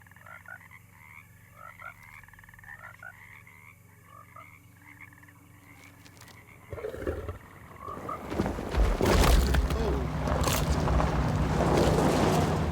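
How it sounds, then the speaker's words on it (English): Frog croaking in the video game Alone in the Dark: a steady run of rhythmic, repeated croaks at moderate volume, then a louder rush of wind- and water-like ambience swells up and masks them in the second half. "That's a creepy frog."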